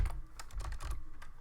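Short burst of typing on a computer keyboard, close and clear, with quick irregular key clicks and no voices.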